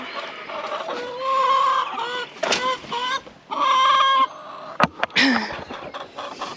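Several chickens cluck and chatter close up in short overlapping bursts, with a few sharp taps and scuffs mixed in.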